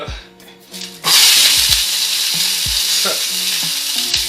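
Plant-based meatballs dropped into a hot skillet burst into a loud, sustained sizzle that starts abruptly and holds steady, with a low recurring tonal hum running underneath.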